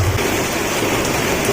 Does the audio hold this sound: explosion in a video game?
no